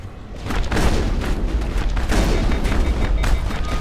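Loud, dense weapon fire from the video game Mass Effect, a rough sustained roar of booming shots with a few sharper bursts standing out, and no clean gaps between them.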